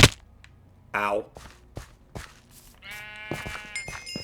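Minecraft sheep bleat among scattered game noises: one wavering bleat near the start and a longer, higher bleat later, mixed with sharp thuds and clicks, fairly close.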